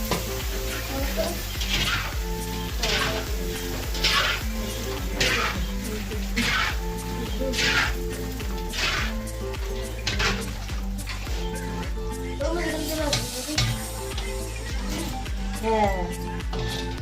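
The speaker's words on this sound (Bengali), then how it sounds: "এখন বাবা ফুচকা ভাজছে" Fuchka (puchka) puris fry in hot oil at home during large-batch production, a steady sizzle with repeated stirring and scooping bursts while people talk nearby.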